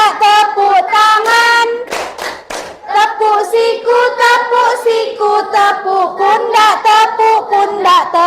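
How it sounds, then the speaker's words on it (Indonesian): Children chant in rhythm during a classroom clapping game, their sung voices dominating with hand claps woven into the steady beat, loud and close. "tepuk tangan, tepuk tangan, tepuk tangan"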